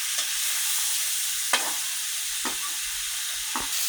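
Spices fry and sizzle in a pan while being stirred, giving a steady close hiss broken by a few sharp scraping strokes of the spoon against the pan.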